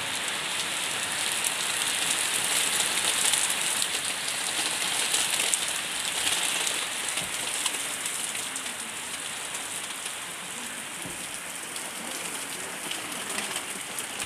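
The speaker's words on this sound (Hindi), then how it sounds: "क्या खूबसूरत मंजर है बारिश का" Steady rain falls and patters on surfaces, a dense continuous hiss throughout with no talking.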